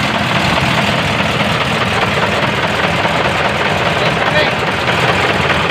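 A heavy-vehicle engine runs at a steady idle during a 24-volt alternator check, a loud continuous low rumble throughout, with people talking over it.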